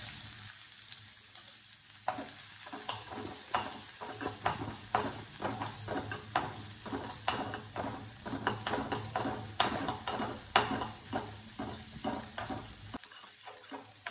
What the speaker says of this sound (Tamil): நம்ம அடை தோசைக்கு கொஞ்சம் சின்ன வெங்காயம் வெட்டி வச்சுருக்கேன், அதை வதக்கிடலாம்